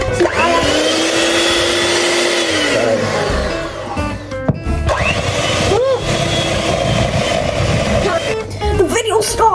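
An electric mixer whirs loudly through mascarpone and two eggs, its whine rising and falling as the speed changes and stopping briefly midway, with people talking over it in a home kitchen.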